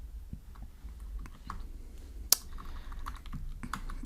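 Fingers tap out a short phrase on a computer keyboard in a quiet room, with soft irregular key clicks and one sharper click partway through.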